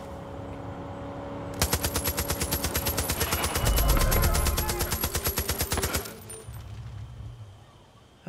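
Rapid sustained automatic gunfire in Far Cry 5, a dense burst of evenly spaced shots lasting several seconds over a low game ambience, loud and close, then cutting off abruptly, with no talking.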